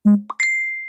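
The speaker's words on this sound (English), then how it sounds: "that's my phone" A phone gives a short rising notification chime, a low blip then a bright sustained ding, close and clear on its own.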